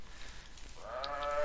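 A Minecraft sheep gives a single drawn-out, nasal bleat in the latter half as it is struck, rising out of a faint, steady background hum.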